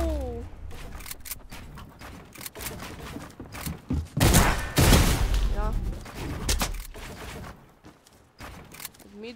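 Gunfire in a battle royale video game as a player shoots down an opponent's shield with a few shots, sharp bursts clustered in the middle under ongoing speech and game noise.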